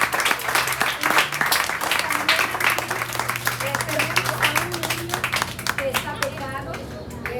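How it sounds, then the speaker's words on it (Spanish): A crowd applauds steadily throughout, with a voice speaking over the clapping. "Yo también le quiero brindar un fuerte aplauso."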